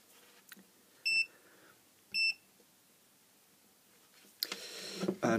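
A multimeter set to continuity beeps twice, short sharp electronic tones about a second apart while testing the earth wire of a cheap mini 10W LED floodlight, followed by handling clatter near the end.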